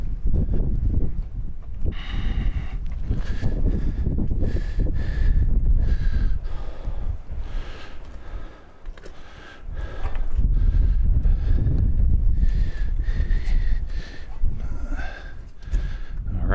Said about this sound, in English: Wind is really blowing today.